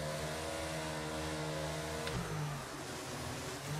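A Formula 1 car engine in the video game F1 22 hums steadily near 9,000 RPM, then its pitch drops abruptly partway through, a smooth synthetic engine tone throughout.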